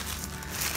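Plastic garbage bags, 30-liter size, give off a short, steady crinkling rustle up close, with no voices.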